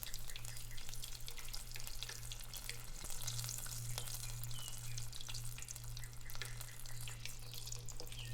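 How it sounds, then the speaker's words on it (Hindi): Bread sticks deep-frying in hot oil over medium heat until golden brown, a steady dense crackling sizzle that continues without pause from start to finish under a low constant hum, with no voices. "अब एक एक करके ब्रेड स्टिक्स को डालेंगे और गोल्डन ब्राउन होने तक फ्राई कर लेंगे।"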